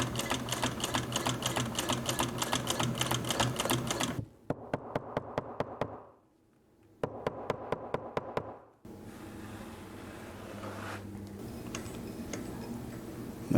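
Consew 339RB-4 walking foot industrial sewing machine stitching in rapid ticking bursts, a long fast run, then short stop-start runs separated by near silence, close and fairly loud with no talk.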